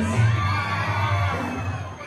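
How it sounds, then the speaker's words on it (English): A party crowd at a wedding Mehendi and Sangeet celebration screaming and cheering loudly together, a dense sustained roar of shouts and whoops. "If you want to have more entertainment tonight, can I hear you scream, please?"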